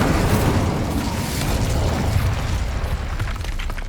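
A fiery Incendio spell bursts in the Hogwarts Legacy video game, a loud, dense whooshing roar that holds steady for several seconds with rumbling low end and no voices.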